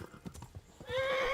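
Horse hooves clip-clopping in the video game Kingdom Come, a quick run of close hoofbeats followed by a loud whinny from the horse, with no talk.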